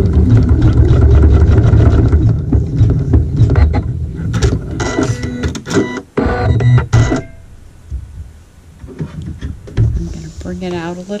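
Sewing machine stitching fabric for a strip triangle quilt block, a loud whirring mechanical run broken into bursts and stops, with a voice talking in between.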